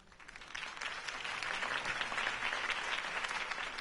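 Steady applause from a crowd, many hands clapping at once, swelling slightly and holding at a moderate level.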